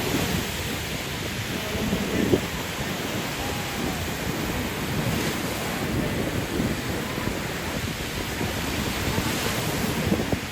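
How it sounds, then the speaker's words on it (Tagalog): Choppy ocean waves break on a surfing beach in La Union, a continuous loud wash of surf with rolling swells and wind, no voices heard. "Magulo lang yung alon eh."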